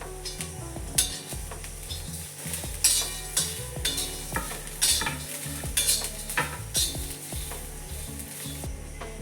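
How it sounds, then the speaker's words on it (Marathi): Dry stirring and scraping of onions and coriander seeds roasting in a hot pan with light sizzling, repeated rhythmic strokes of a spatula throughout. "कांद्यासोबतच आता आपण धणेही भाजून घेऊया"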